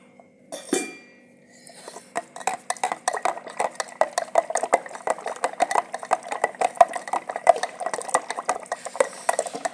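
A homemade mango shake with milk is churned by hand in a pot, giving a steady run of quick clinking and sloshing strokes. They build from faint to fairly loud and close, with no voices.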